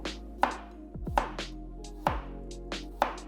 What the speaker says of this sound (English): Slice garlic.